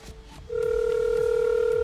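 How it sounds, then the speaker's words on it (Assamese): An outgoing phone call rings back through a loudspeaker: a brief quiet lead-in, then a loud, steady tone that runs continuously to the end. "মই স্কেমাৰজনক ফোন লগাওঁ"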